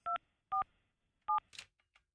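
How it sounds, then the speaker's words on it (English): Three crisp touch-tone keypad beeps ring out as a telephone number is dialed in a radio morning show studio, evenly spaced apart, followed by faint clicks and a brief rustle. "I'm getting Allison on the phone right now"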